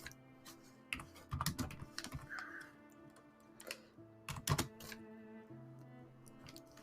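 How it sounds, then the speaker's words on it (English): Computer keyboard typing in bursts of quick clicks with short pauses, fairly close and clear, with no voices over it. "I'm typing out my version in Discord"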